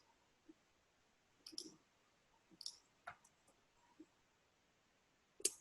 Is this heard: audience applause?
no